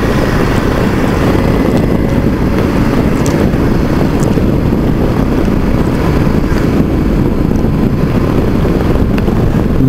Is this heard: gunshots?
no